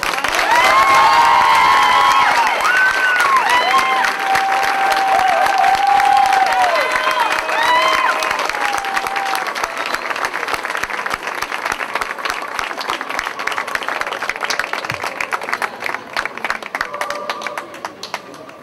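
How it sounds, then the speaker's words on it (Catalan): Crowd applause for the newly named Pubilla of Pineda de Mar 2012, Clàudia Risec Noguer, at a local civic ceremony: dense, loud clapping mixed with some cheering and shouts, sustained throughout and easing slightly toward the end. "Un fort aplaudiment per la Clàudia Risec Noguer."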